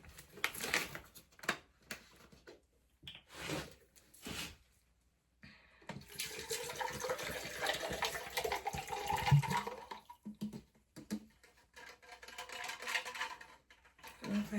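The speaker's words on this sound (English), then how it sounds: "I'm about to pour this water in." Water poured from a container, splashing and trickling in uneven bursts with short pauses, close and moderately loud against a quiet room.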